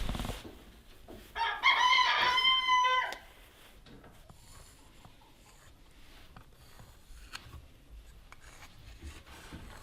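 A chicken near a broody hen gives a rising, strained crow-like call lasting a couple of seconds, followed by quieter scratching, rustling and occasional soft clucks nearby.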